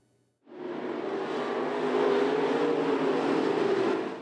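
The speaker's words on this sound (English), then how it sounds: "The sound of roaring engines signal that things are getting back to normal in the town of Emo." Race car engines roar at Emo Speedway, bursting in after a short near-silence and then holding a loud, continuous, droning engine roar with no voices.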